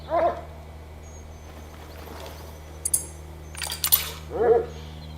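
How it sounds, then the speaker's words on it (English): A hunting dog in The Hunter: Call of the Wild, on the New Scotland map, gives a few short barks and whimpers spread across the clip, close and fairly loud, with small clicks and game effects between them. "Alright, let's get the dog out."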